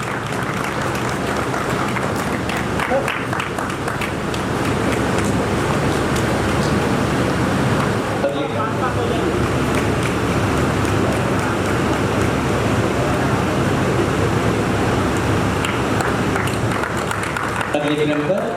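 An audience at a Hindi stage play applauds the performers with a dense, continuous clapping that runs the whole stretch, steady and full, with a brief dip partway through.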